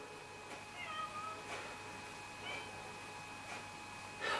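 A cat outside a window meows repeatedly, about four or five short, evenly spaced calls, a little distant and muffled against a quiet background hum.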